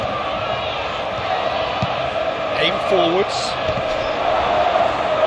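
Stadium crowd at a Champions League football match between Arsenal and Bayern Munich, a broad, distant roar and murmur running beneath a commentator's voice, with brief whistles and a swell of noise.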